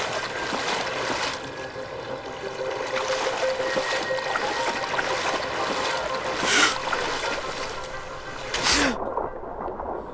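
A character swimming through sea water in the zombie action game Dying Light: steady sloshing and rushing water noise with soft splashes throughout, a brighter burst of splashing near the end.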